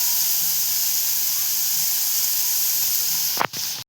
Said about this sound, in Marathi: आता अशीच परतवून घ्यायची ती. कमी गॅस केलेला आहे.